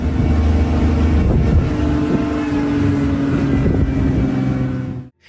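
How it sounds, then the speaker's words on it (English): A car engine drones loudly and steadily while driving through a forest during a rhino chase, holding a sustained rumbling tone before cutting off abruptly at the end. "The forest echoed with the sounds of the car's engine and the thumping of the rhino's"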